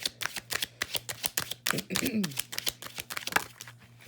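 Tarot cards are riffle-shuffled in quick crisp bursts, a close rapid flutter of repeated snaps, with a voice speaking briefly in the middle.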